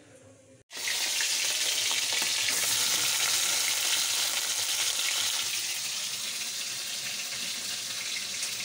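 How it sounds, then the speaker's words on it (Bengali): Prawns frying in a pan with oil: a loud, steady sizzle bursts in abruptly after a brief quiet moment and carries on evenly to the end, with no voices. "এই দেখো আমার চিংড়ি মাছগুলো ভেজে নিয়েছি"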